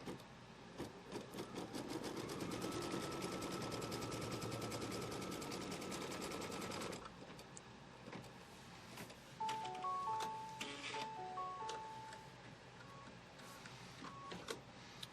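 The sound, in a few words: embroidery machine stitching a placement line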